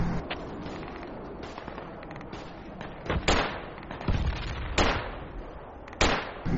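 Gunfire in the military shooter game Project Reality, a series of sharp shots and short bursts with loud booming cracks, some nearby and others more distant, scattered irregularly over a low rumbling battle background.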